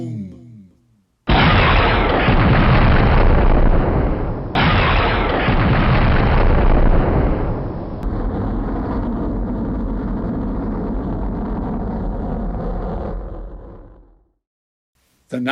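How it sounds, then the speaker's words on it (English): A cartoon rocket blasting off, rendered as a loud, sustained roaring rumble that surges twice, then settles into a steady hiss-like roar for over ten seconds before cutting out, with no voices over it. "He pressed the buttons, but 5, 4, 3, 2, 1. Blast off! Zoom!"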